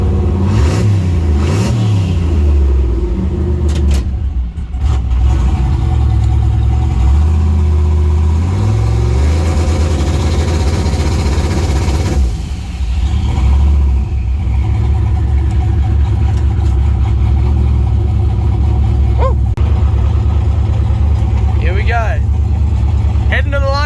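A turbocharged LS-powered Holden station wagon runs down a drag strip quarter mile, its loud engine revving and rising through gears with shifts, while voices talk over it.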